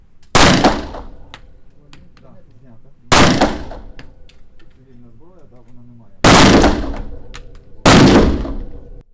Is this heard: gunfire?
yes